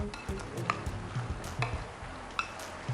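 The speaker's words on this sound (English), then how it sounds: "So we're gonna mix it all up." A spoon works a pita filling around a bowl, with soft scraping and repeated knocks and clicks against the bowl in an uneven rhythm, close and moderately loud.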